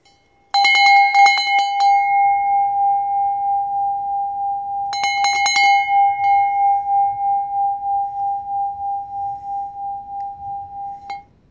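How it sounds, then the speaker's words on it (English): A rusty bell made from a small oxygen cylinder is struck twice, each time with a quick cluster of bright metallic strikes. A clear, steady ringing tone follows and sustains for several seconds with a slow wobble before stopping abruptly. "The second rusty bell."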